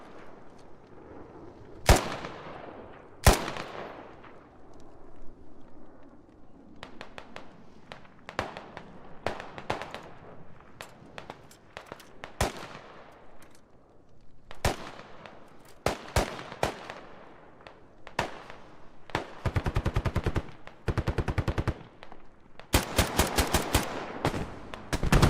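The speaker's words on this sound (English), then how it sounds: "I believe that's the AGS-17 grenade launcher." AGS-17 automatic grenade launcher firing in the military game Squad, sharp loud blasts and bursts of rapid repeated shots with echoing tails, spread irregularly across the battle, some louder and nearer than others.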